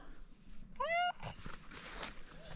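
A single clear, close cat meow rising and falling over about a third of a second, followed by faint rustling and quiet room noise.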